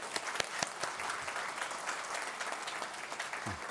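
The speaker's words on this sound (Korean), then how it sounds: "우리 박수하겠습니다" Church congregation applauding a newly engaged couple during a Sunday worship service, a steady wash of many hands clapping with a few sharper claps near the start, fading out toward the end.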